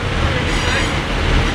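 Class 222 diesel train 222009 at Lincoln Central station, a loud continuous rumbling engine and rail roar close by, steady throughout the short stretch.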